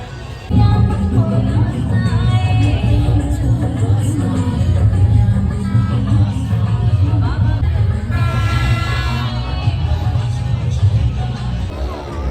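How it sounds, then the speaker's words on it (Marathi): Dense crowd hubbub fills a busy Maha Shivratri temple fair (jatra) at the Ambernath Shiv temple, a steady loud babble of many voices with vehicle noise mixed in throughout. "बघा पब्लिक बघा किती आहे, एकदम फुल भरली जत्रा बघा."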